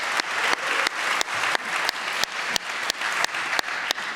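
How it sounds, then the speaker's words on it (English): Steady applause from a crowd, continuous clapping at moderate volume throughout. "Yes, big round of applause."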